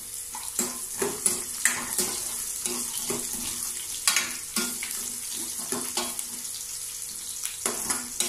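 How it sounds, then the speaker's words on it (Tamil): Garlic and onion frying in a pan in a village kitchen, a steady crackling sizzle broken by repeated scraping stir strokes, with a single brief spoken word. "வெங்காயம் நல்லா வதங்கிட்டு இப்போ தக்காளியும் சேர்த்துக்கோ."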